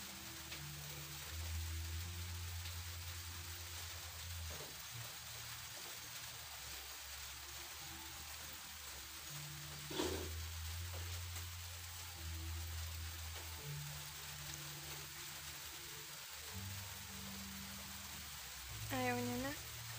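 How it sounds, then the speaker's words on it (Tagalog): Rain falls steadily as a soft, continuous hiss across the whole stretch, with people talking now and then and occasional louder bumps. "Ulan lang yan si Kuidan."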